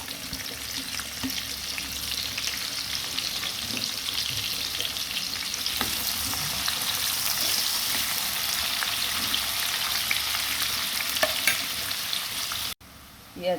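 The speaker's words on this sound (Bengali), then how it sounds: "পেঁয়াজ ভাজা হয়ে গেছে।" Onion sizzles steadily in a hot pan for duck curry with cinnamon, bay leaf and nutmeg, a continuous close frying hiss with occasional stirring scrapes, cutting off briefly near the end.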